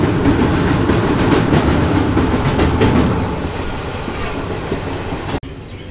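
A Saharsa–Sealdah express train runs past Purnia Court railway station in India, its rumble and clickety-clack of wheels loud and continuous before easing off, with no talk.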